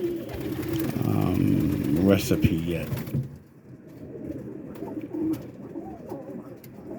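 Whipping roller pigeons coo and flutter in a loft in Boston, Massachusetts. Someone talks over the birds for the first few seconds, then soft cooing and faint rustling carry on more quietly.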